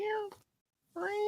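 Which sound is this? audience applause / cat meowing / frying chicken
cat meowing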